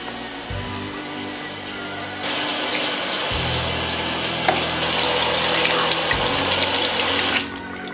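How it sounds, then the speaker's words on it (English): Water running steadily from a tap in a bathroom, a continuous loud hiss and splash that swells partway through, with low hums underneath and no talking. "I hear water running. It's coming from the bathroom."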